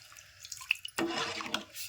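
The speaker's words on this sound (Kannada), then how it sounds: "ಈಗ ಸಾಂಬಾರು ಮಾಡ್ಲಿಕ್ಕೆ ಎಷ್ಟು ಬೇಕೋ ಅಷ್ಟು ನೋಡ್ಕೊಂಡು ನೀರು ಹಾಕೊಬೋದ್ರಿ" Water is poured into a pot of sambar in a home kitchen: a faint drip, then a short, soft splashing pour near the microphone, with no talk.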